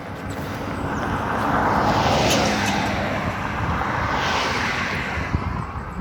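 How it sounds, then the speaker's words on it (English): Passing traffic on a highway, a broad roar that swells and fades as vehicles go by, with some wind buffeting the microphone and no talking. "This might be a bad idea with the noise on the highway."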